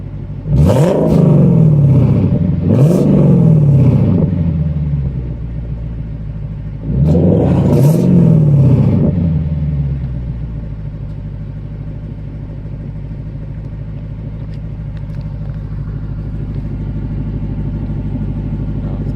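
Lexus fitted with a GTHaus Meisterschaft exhaust, valves closed, blipped through three loud, close rev bursts in the first half, each rising and falling quickly, then settling into a steady low idle rumble.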